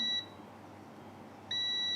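A multimeter's continuity tester beeps as its probes touch a package resistor on a phone circuit board: one steady tone cuts off, then after a short quiet gap another loud beep starts and holds.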